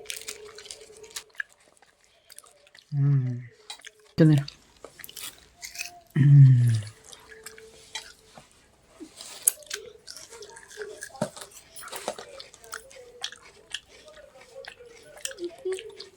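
Agra sweets being chewed up close, with soft moist chomping and squishy bites in an irregular rhythm, broken by a few short voiced hums or murmurs from the eater.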